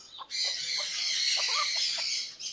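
A Golden Sebright hen acting as foster mother calls her chicks in a steady run of soft clucks, close and fairly loud over a high, continuous chirping of chicks.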